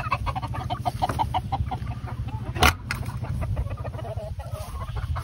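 Golden laced hens cluck and murmur continuously in a pen, close and busy, with one sharp louder squawk partway through.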